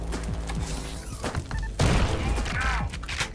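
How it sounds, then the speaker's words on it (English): A thrown bomb detonates in the shooter Ion Fury, a loud blast and crashing debris bursting out midway through a clatter of in-game noise and thuds. "I guess I'll just throw the bomb over here."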